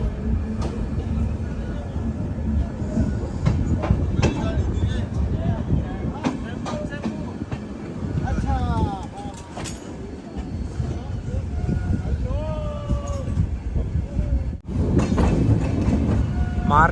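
The Shri Shakti Express from Katra to New Delhi runs with a steady loud rumble and clatter of wheels, with brief wheel squeals rising above the roar.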